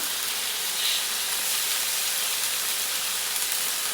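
Soy sauce poured into chicken adobo in a hot pan, giving a steady, broad sizzling hiss that holds close and even throughout with no voices.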